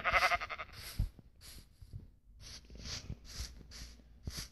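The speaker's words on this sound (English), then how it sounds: "It's a sheep. Can someone kill that sheep?" A sheep in the video game Minecraft bleats a few times, a short wavering baa that stands out loud and close at the start, followed by fainter game sounds, soft thuds and breathy noises.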